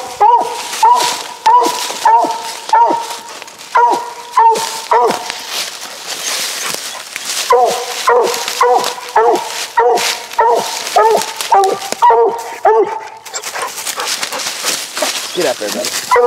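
Redbone coonhound pups on a coon hunt bark loudly and close in repeated rapid bursts, with whining and yips between volleys.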